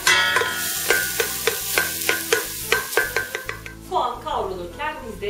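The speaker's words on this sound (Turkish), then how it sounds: "Soğan kavrulurken" Chopped onion sautéing in hot oil in a pan while making soslu börek, with a steady sizzle under repeated rhythmic scraping and stirring strokes of a utensil, close and fairly loud.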